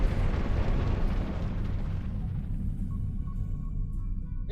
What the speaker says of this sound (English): Man, those explosions are crazy.